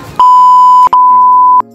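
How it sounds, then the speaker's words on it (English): A loud censor beep: two steady high-pitched tones back to back, split by a tiny gap, filling about a second and a half. "Censored. Beep."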